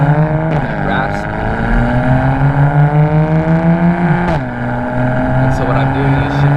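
A BMW fitted with ARM resonated downpipes and an Active Autowerke equal-length mid pipe drones loudly from inside the cabin, its engine note rising then dropping sharply at two manual gear shifts.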